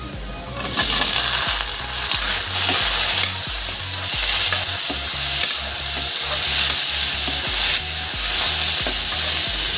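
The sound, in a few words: tomatoes frying with onions and spices in a pan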